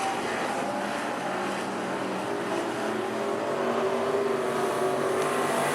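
V8 AMCA National Racing cars at Rockhampton Speedway, a dirt oval, roaring steadily around the track, their engine drone loud and continuous with shifting pitches from several cars.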